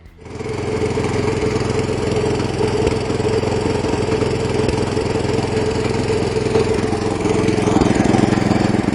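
A DTZ 570BN walk-behind tractor's small engine runs steadily and close by, a constant loud droning hum with a slight rise near the end.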